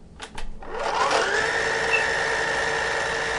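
A Shark vacuum cleaner starts up after a couple of clicks, its motor whine rising then settling into a steady loud hum close by.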